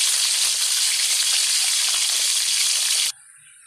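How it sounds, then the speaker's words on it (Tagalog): Food fries in a pan until brown, a loud, steady hissing sizzle that runs for about three seconds and then cuts off abruptly, leaving only faint background noise. "Habang nag-antay tayo mga kaguro sa piniprito natin na mag-brown"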